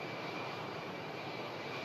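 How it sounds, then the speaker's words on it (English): Loud, steady broadband roar from a Boeing 757-200 airliner just after touchdown as its reverse thrusters retract, a continuous engine rush without breaks or talk. "Reverse thrusters just retracting there now."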